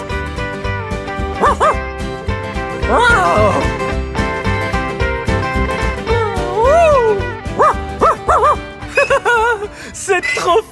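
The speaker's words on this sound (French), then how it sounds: "là que les chiens dorment." Dogs in a barn where they sleep give several yips, whimpers and short barks, close and fairly loud, mixed with children's music and excited talk.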